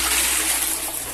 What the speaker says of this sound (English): Let me just flush this for Harvey.